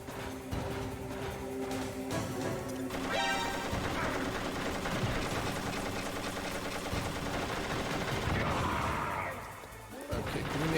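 A grenade blast in Metal Gear Solid sounds amid a dense run of crashing and crackling game noise, loud and sustained for several seconds before it drops off near the end, with no clear talk over it.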